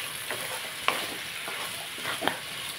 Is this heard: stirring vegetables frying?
yes